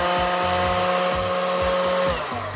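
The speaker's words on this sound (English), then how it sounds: "It is a standard 5-inch sanding pad, and again, it is a single speed. I'll turn it on." A Craftsman V20 cordless 5-inch random orbit sander with a standard pad runs at its single speed, giving a loud, close, steady whirring drone with a buzzing motor hum that tapers slightly at the end.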